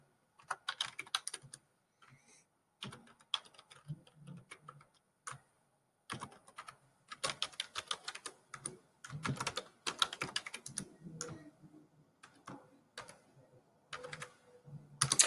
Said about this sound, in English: So I'm just typing each one, as you can see.